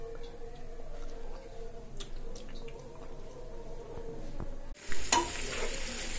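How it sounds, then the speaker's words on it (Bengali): Bitter gourd, onion, green chili and garlic frying in a pan, a steady close sizzle with light ticking stirs throughout and a sudden louder burst of crackle near the end. "কাঁচামরিচ, রসুন ভেজে নিচ্ছি।"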